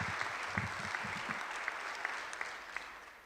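Audience applause at a youth apprenticeship launch event, a faint, fairly distant wash of steady clapping that continues evenly throughout, with a few louder claps near the start.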